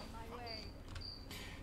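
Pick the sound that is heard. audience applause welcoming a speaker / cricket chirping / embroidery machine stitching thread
cricket chirping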